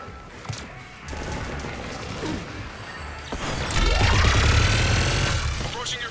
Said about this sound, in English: Just following the gunfire.